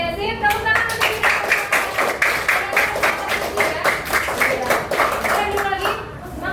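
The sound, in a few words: class clapping hands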